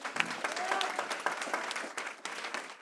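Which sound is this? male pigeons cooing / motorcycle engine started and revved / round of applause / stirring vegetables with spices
round of applause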